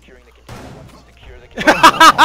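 Shotgun blasts in the Rainbow Six Siege video game, Oregon map team deathmatch: several loud, sharp bursts close together near the end, after a stretch of people talking quietly.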